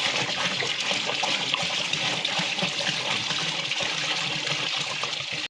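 Water gushes steadily from a can into a large pot of Dindigul mutton biryani, a loud, continuous splashing pour that runs unbroken before stopping abruptly at the end.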